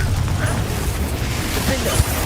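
A Confringo blasting spell goes off in the Hogwarts Legacy video game, a dense, sustained low rumble with a sharp burst near the end, loud and continuous throughout.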